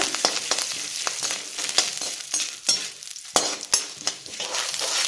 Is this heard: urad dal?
yes